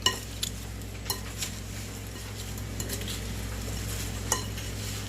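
Fried chicken is tossed with sweet chili sauce in a bowl, giving a few sparse utensil clinks and soft scrapes over a steady low hum, with no speech.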